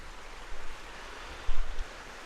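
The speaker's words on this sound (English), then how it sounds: "That's the river there, that's the little Fisher River, all the way up here." The small Fisher River flows past a campsite in the Norwegian Arctic, a steady rushing wash with a couple of brief swells, close and constant.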